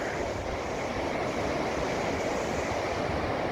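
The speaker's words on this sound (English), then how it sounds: "There's water flowing down through the waterfall." Water pours down a waterfall outdoors, making a constant, broad rushing hiss at moderate volume that stays even throughout.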